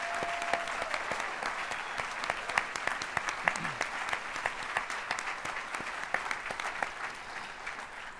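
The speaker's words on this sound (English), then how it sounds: "let's give a round of applause for all of our award recipients tonight" Sustained applause from an audience honoring award recipients at an alumni awards ceremony, steady dense clapping throughout at moderate distance with no talk over it.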